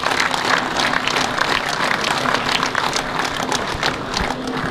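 An outdoor audience at the French Olympic Sailing Week in Hyères claps for Olympic sailors, a dense crackling applause that holds steady for several seconds, with faint voices mixed in.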